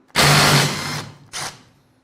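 A worn crankshaft in a naturally aspirated engine turns with a harsh, grinding rattle, one long rough burst followed by a shorter second turn.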